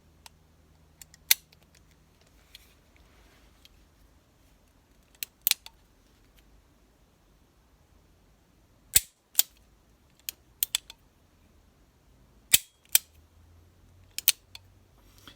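Cartridges are loaded into a Smith & Wesson 686 revolver, giving sparse sharp metallic clicks and taps, some in quick pairs, spread across an otherwise quiet room.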